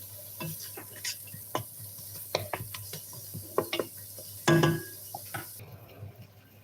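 Garlic fries in a pan while being stirred, heard as faint scattered clicks and scrapes of a utensil over a low sizzle. One louder clattering scrape stands out near the end.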